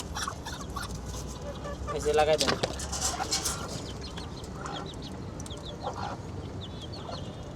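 Chickens cluck and call repeatedly at close range on a home poultry setup where hens are brooding, with a louder burst of squawking in the middle and a person talking over them.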